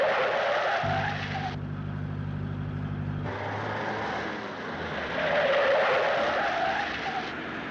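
A borrowed car drives hard and skids, with a rough engine drone and long tire squeals rising and falling over several seconds, loud and close with no talk.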